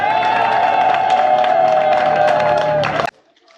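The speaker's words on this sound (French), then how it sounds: "Applaudissons pour notre candidat." Crowd at an outdoor campaign rally in a housing estate cheering and clapping loudly and continuously, with whoops over the din, cutting off abruptly near the end.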